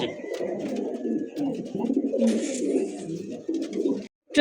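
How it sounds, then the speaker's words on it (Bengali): A pigeon at a bird seller's coos continuously in a close, low rolling call that pulses steadily, with faint chatter in the background and a brief break near the end. "দেন কবুতর ডাক দেখছেন, শুরু করছি ভাই পাক্কা 1 মিনিট ধরে যে ডাকা শুরু করছি"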